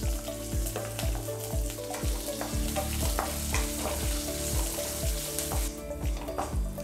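Green chilies and cashews fry in hot oil over a low flame, a constant close sizzle with rhythmic spoon strokes scraping the pan about twice a second throughout.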